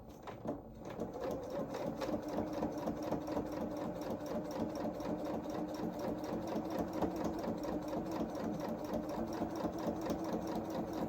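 A sewing machine stitches a curved line on small doll-sized mechanic's coveralls, with a close, continuous rapid whirring and needle chatter that never pauses.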